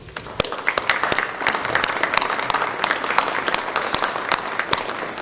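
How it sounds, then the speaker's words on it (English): Sustained, loud audience applause at a National Honor Society induction ceremony, dense overlapping hand claps with sharp individual smacks standing out throughout, a steady round of clapping with no talking. "please give everyone a round of applause"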